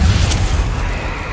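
The Bombarda explosion spell goes off in the Hogwarts Legacy video game as a loud, close, deep boom whose low rumble fills the whole moment, with no speech.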